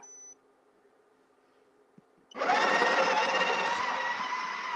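An espresso maker starts up after a faint beep and near silence, then runs loudly with a steady buzzing, whirring drone close by.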